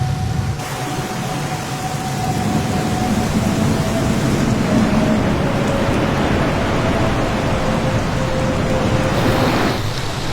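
Steady, dense rain pours down during a storm in Tuvalu, a continuous broadband hiss with a low rumble under it and a faint tonal whine drifting through.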